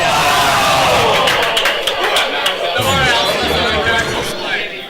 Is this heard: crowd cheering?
yes